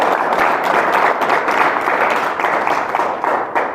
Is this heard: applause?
yes